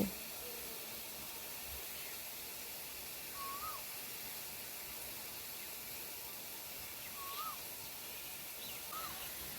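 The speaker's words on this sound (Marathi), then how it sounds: "हे बघा मस्त अशी कोकिळा गाती" An Asian koel calls a few times at a distance, short rising whistled notes spaced several seconds apart over a steady background hiss, under an overcast sky.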